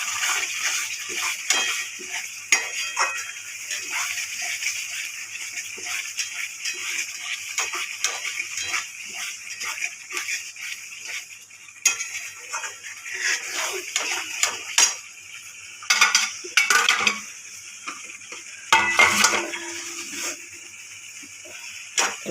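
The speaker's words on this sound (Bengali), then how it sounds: "নেড়ে নিই।" A utensil stirs chicken with tamarind pulp in a pan, making irregular clinks and scrapes against the metal with wet, sticky movement over about twenty seconds, sometimes pausing.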